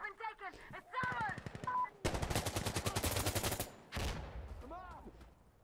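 Rapid bursts of automatic gunfire from the video game Insurgency: Sandstorm, a dense rattling volley between about two and four seconds, with someone talking before and after the shooting.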